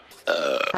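One short, close burp follows drinking salty sodium citrate water. It is a single gurgling belch, abrupt and fairly loud, lasting under a second in an otherwise quiet room.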